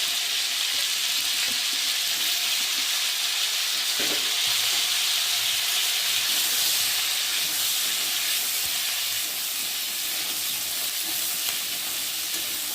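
Cauliflower pieces fry in hot oil in a pan for a prawn, cauliflower and potato dish, giving a loud, steady sizzle and hiss with occasional stirring scrapes and no talk.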